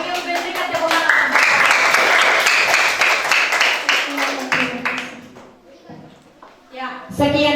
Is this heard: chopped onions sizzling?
no